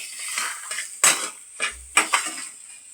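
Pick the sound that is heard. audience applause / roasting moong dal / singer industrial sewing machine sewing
roasting moong dal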